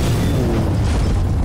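A Garry's Mod explosion fills the clip with a loud, continuous rumbling boom and crackling debris, with no pause throughout.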